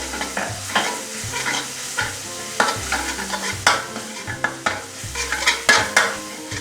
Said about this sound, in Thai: ขั้นตอนต่อไปก็เรามาเจียวกระเทียมนะครับ ที่เรา โขกไว้นะครับเพื่อนๆ ใส่ลงไปเลยครับ เจียวให้หอมเลยครับ